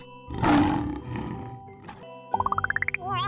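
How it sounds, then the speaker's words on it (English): A lion gives a deep, loud roar that tails off into grunts, followed by a quick rising run of cartoonish musical tones; no talking. "L is for lion."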